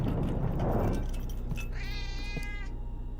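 A pet cat in a home meows once in a drawn-out, wavering call, clear and close, over a steady low background hum.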